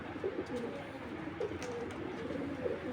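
Racing pigeons, a pair of imported birds, coo in low repeated murmurs close by, steady soft calls layered over a constant background hum.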